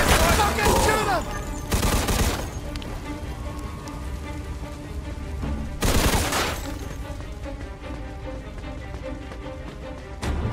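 Bursts of automatic gunfire from a Mafia II shootout: two loud volleys near the start, another sharp burst midway, with weaker shots trailing over a steady game soundtrack.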